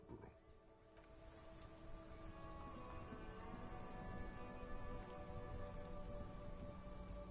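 Steady rain falling during a traffic jam, a continuous dense patter with close drops on a surface, growing slightly louder over the stretch, with tonal hum underneath.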